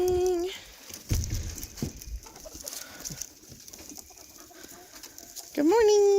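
Hens clucking softly inside a cinder-block backyard coop in the morning, faint and scattered, while a woman greets them in a sing-song voice at the start and end.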